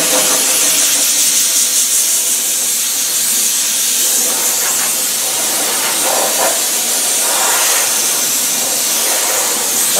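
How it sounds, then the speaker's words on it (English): Lance spraying rust-proofing over the outside of a Land Rover 110 chassis gives a steady, loud, broadband hiss that runs unbroken for the whole stretch, with faint pulsing in the spray and no talk. "now I'm going to use this lance and just give it a quick spray over on the outside"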